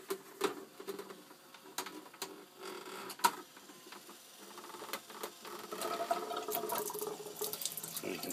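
Water drains and splashes out of a lifted Jobo film developing drum during black and white film processing, a close trickling wash that grows fuller and steadier toward the end.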